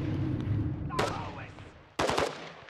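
Video-game gunfire from enemy bots cracks out in two bursts, a sharp volley near the one-second mark and a louder rapid cluster after a brief lull, fairly close over ambient rumble.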